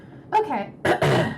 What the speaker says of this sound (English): that's just me clearing my throat a bunch